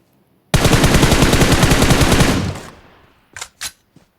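Automatic gunfire in the shooter game PUBG Mobile: a loud, rapid sustained burst of about two seconds that fades, followed by a few short sharp reports.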